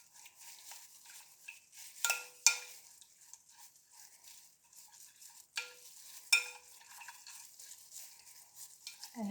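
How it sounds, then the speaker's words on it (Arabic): Chicken chermoula ingredients with olive oil being stirred and mixed in a bowl, soft scraping and clinking with a couple of sharper knocks, close and fairly quiet, no voices. "غادي نمزج هاد المكونات مع بعض"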